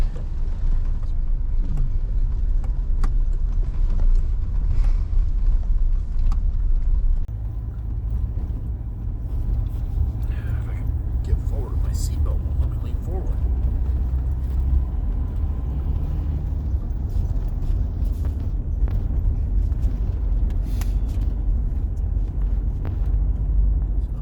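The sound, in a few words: vehicle driving through a big tunnel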